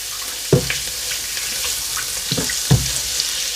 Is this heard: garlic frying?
yes